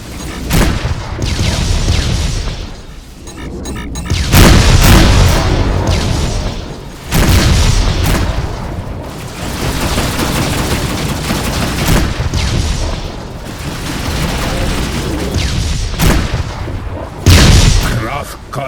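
Incoming missiles and gunfire in the space combat video game Rebel Galaxy Outlaw: repeated loud, booming explosions and crackling bursts of fire, rising and falling in waves over a dense, continuous din.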